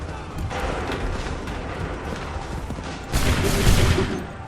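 Musket volley fire in Assassin's Creed III, a dense crackling fusillade of many guns with a heavier, louder burst of shots near the end of the clip.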